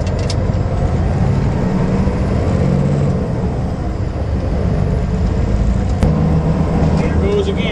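A show truck's engine roars loudly through its exhaust pipes, a steady, heavy rumble that fills the whole stretch, with a brief sharper burst midway and talk over it.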